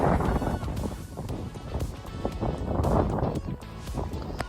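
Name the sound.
rain outside the Basilica in New Orleans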